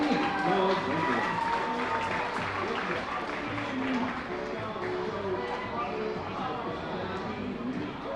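A crowd at a minor-league baseball game between the Reading Fightin Phils and the Hartford Yard Goats applauds steadily for several seconds, a dense wash of clapping that eases slightly toward the end.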